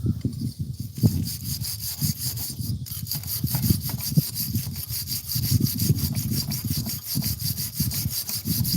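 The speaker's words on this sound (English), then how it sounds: "I hate using wire brush on aluminum." A wire brush scrubs aluminum on a worn part from a 70-year-old Craftsman mower held in a vise, making a steady rhythmic rasping of quick back-and-forth strokes, close and continuous, with no talking.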